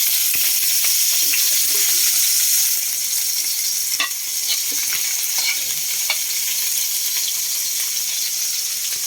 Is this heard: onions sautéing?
yes